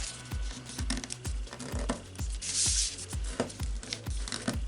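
Printer paper being folded and creased sharply by hand, a close series of rhythmic crinkling presses and dry rubbing strokes, roughly two per second, with a brief louder rustle midway.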